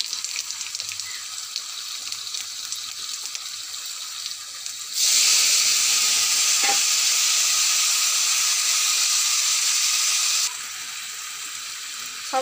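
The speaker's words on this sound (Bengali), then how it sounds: "তো ফোড়নে দেব শুকনো লঙ্কা, একটু 5 ফোড়ন দিলাম" Dried red chilies and panch phoron hit hot oil, tempering for a festive puja dish: a steady broadband sizzle that surges loud and bright for several seconds, then settles back to a softer hiss, with no talking.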